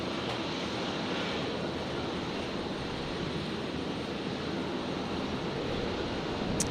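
A Rex Saab turboprop at Brisbane airport gives a steady, broad engine roar throughout, fairly loud and constant, with no voices.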